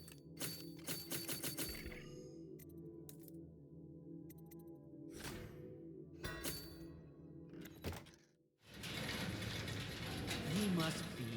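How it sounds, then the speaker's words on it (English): Crafting sleep bolts in the stealth game Dishonored brings clicky mechanical ratcheting and gear-like clatter, with bursts of rapid clicks and thunks, then a steady louder whirring wash toward the end. "Let's craft some sleep bolts."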